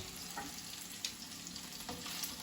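Bite-sized meatballs fry in olive oil with a soft, steady sizzle and crackle, with occasional faint pops heard up close and no voices.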